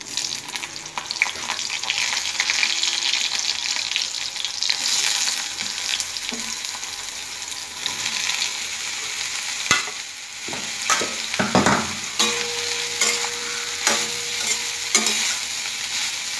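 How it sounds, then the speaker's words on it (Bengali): Soaked, squeezed soybean chunks frying in oil in a pan make a steady loud sizzle, joined midway by repeated clattering stirs and scrapes, close up, with no talking. "এবার সয়াবিনগুলো ভেজে নেব।"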